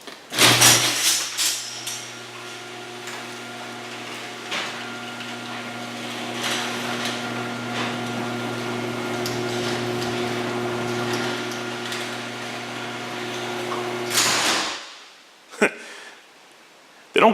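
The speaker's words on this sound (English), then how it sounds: "Okay, and now we will close all 3 doors." Three Chamberlain LiftMaster chain-drive openers closing Clopay garage doors: a steady, loud motor hum with chain rattle runs for about fourteen seconds, then stops with clunks as the doors reach their ends at slightly different moments.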